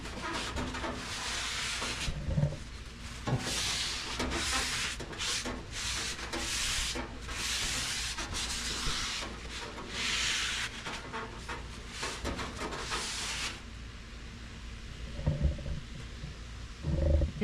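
A rusty Blackstone griddle surface is scrubbed in continuous, harsh rubbing strokes that stay fairly loud, then ease off briefly before a final burst of scraping.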